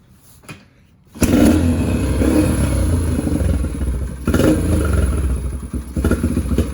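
A Yamaha Raptor ATV's small engine cranks and catches after a brief quiet pause, then runs loud and rough with throttle blips and clattering, close by.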